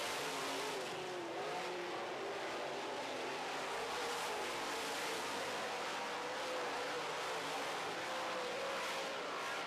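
Late model race cars roar around a speedway during a heat race, a dense continuous engine wash from the pack with rising and falling revs.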